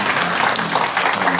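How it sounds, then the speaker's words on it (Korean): A church congregation applauding to welcome new members during a Sunday worship service, steady dense clapping throughout with no break. "우리 박수로 환영하겠습니다"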